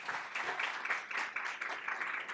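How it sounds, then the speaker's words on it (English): A conference audience applauds a speaker, giving a fairly quiet, steady patter of many hands clapping that pulses slightly throughout, with no voices over it. "Let's give him a round of applause."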